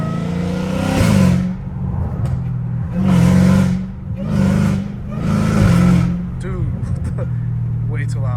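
A catless Dodge Challenger Hellcat Redeye revs hard several times in a neighborhood. Loud, close bursts of exhaust roar rise and fall between low rumbling idle, with a few sharp crackles near the end and people talking over it.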